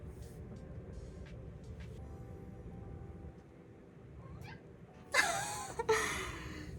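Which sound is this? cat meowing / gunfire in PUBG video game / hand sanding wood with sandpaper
cat meowing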